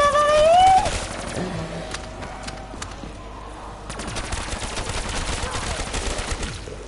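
Rapid gunfire from a weapon in a video game crackles in quick bursts of sharp repeated shots, loud and close, with a brief whistling tone at the start.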